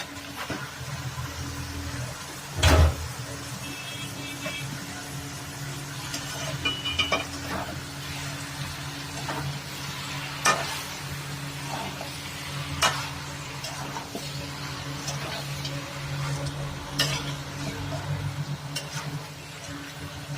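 Pieces of goat head fry in a pan with plenty of chili powder, giving a steady close sizzle with scattered stirring clatters and a sharp knock near the start, and no talk.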